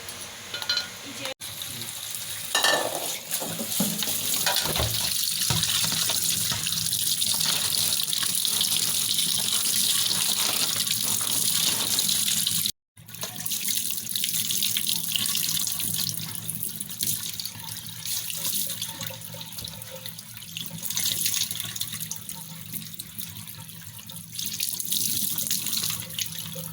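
Water runs from a kitchen tap during washing while a fish curry is prepared. The flow is a continuous splashing hiss with a brief cutoff midway and light clatter from the sink.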